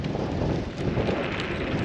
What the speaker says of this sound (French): 25 km/h, il y a un sacré vent